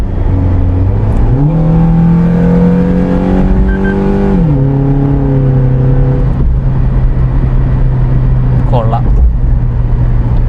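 A Suzuki Jimny running an ECU remap and a BMC air intake revs loudly and close, its engine note climbing in steps, holding high, then dropping back to a steady idle.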